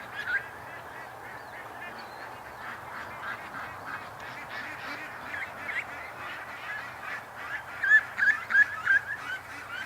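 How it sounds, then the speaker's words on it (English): A large flock of about 125 farm ducks heads down for an evening swim, keeping up a continuous chatter of quacks and honks that grows into a louder run of calls near the end. "there must have been 125 ducks headed down there"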